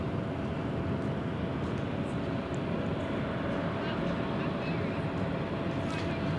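A Southwest Airlines Boeing 737 departs Dallas Love Field with a continuous, broad jet roar that holds steady and loud throughout, dense rumble filling the low end without break.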